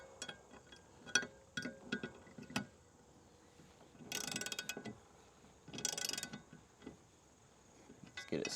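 A 1/2 inch wrench tightens the landing gear wheel on a Hobie Outback kayak. Quiet, close ratcheting clicks and short metallic bursts come in uneven spurts, with brief pauses between turns.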